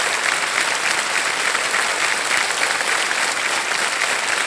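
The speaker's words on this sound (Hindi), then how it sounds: "तालियां बजती रहें इनके लिए" Studio audience applauding on the TV quiz show Kaun Banega Crorepati, a dense, steady burst of clapping that holds at full strength throughout with no talk over it.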